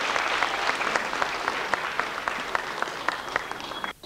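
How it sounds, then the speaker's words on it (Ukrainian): Audience applauding at a youth pop singer contest, steady dense clapping filling the hall throughout, moderately loud with individual claps standing out, fading slightly at the end. "Ваші оплески, диплом усім подарунок."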